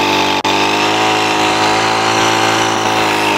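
A power tool drilling a hole into garden soil to loosen compacted ground around tree roots, giving a loud, steady, close motor drone with one brief dip near the start.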